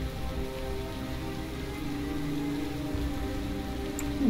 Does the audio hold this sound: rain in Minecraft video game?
yes